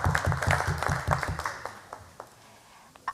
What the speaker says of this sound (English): applause for the Convention Center staff for all their work